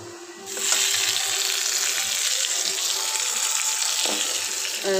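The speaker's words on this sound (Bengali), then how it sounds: "ডালটা এখন বাগার দিতেছি।" Dal being tempered in hot oil, a loud sizzle that surges suddenly and then holds at a steady, close hiss.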